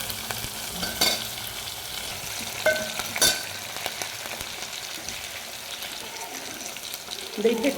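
Cumin and whisked curd hit hot oil in a pan, giving a steady soft sizzle with a few sharp ladle clinks against the metal, close and fairly quiet.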